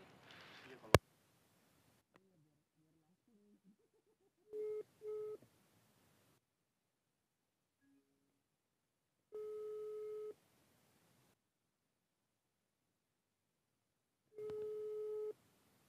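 Phone call tones sounding while dialing a customer from a pharmacy delivery run, a soft click followed by a short double beep, then long steady ringback tones repeating with silent gaps between them.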